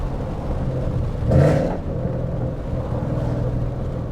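A loud Ford Mustang GT heard from inside while driving, its engine a steady low rumble that swells briefly in a short rev before settling back.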